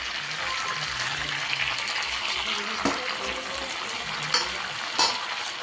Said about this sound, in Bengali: চলো বন্ধুরা এবার মাংসটাকে কষে নিই